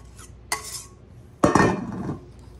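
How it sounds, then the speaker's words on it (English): Milk and egg mixture poured and stirred into chocolate sheet cake batter: a short clink of a utensil, then a louder stretch of scraping and clattering against the bowl, close and alone. "And get this stirred up in there"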